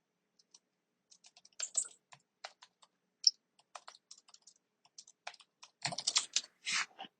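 Typing on a computer keyboard, entering a prompt into a Discord server: bursts of quick, close key clicks with short pauses, a heavier flurry of keystrokes near the end.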